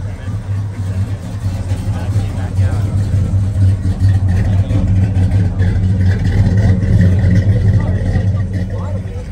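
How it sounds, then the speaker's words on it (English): A Pontiac GTO rolling out slowly at an outdoor car show, its engine giving a low, steady rumble close by with people talking over it. "Got a GTO rolling out."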